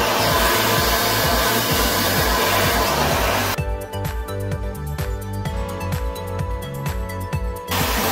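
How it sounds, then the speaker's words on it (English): A handheld blow dryer roars loudly and steadily during a home haircut for about the first half, then cuts out and music takes over. "So I hold this blow dryer with these two fingers"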